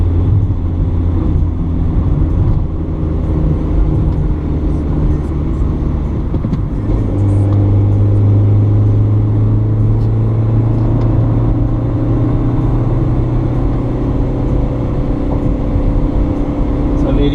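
Volkswagen Saveiro 1.6 Trooper pickup, a 2012 armored version, driving along with a steady low engine and road rumble inside the cab, a loud constant drone throughout with someone talking over it.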